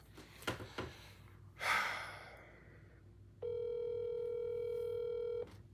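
A steady telephone dial tone hums for about two seconds while a call is placed, preceded by a few clicks and a loud breathy sigh, with no talking.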